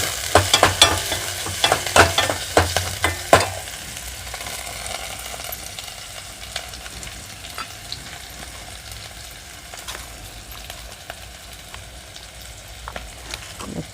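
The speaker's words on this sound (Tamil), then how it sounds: "வெங்காயம் வதங்கட்டும்." Onions sauté in a pan for a lake kendai fish curry. A loud sizzle with rapid stirring clatters fills the first few seconds, then settles into a quieter, even frying hiss with occasional taps.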